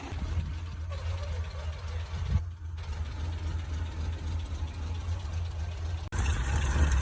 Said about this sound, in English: it's idling a little different than it was this morning